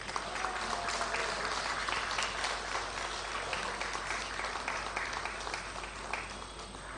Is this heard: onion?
no